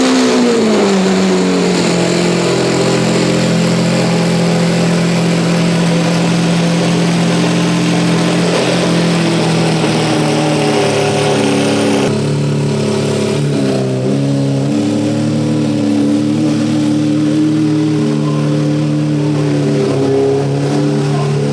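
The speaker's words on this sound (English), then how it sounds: "this Aventador sounds insane" Lamborghini Aventador engine revving loudly up close, a sustained roaring drone that climbs in pitch, then drops and rises again, dominating the whole stretch with no talk.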